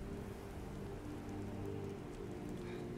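Steady rain falls outdoors in Whiterun in the game Skyrim, an even, continuous patter with a soft low rumble and no voices.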